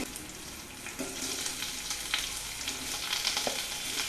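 Sliced onions hiss and crackle in hot oil in a pan for an okra curry, a steady close sizzle with a few brief stirring clinks and scrapes, no talking.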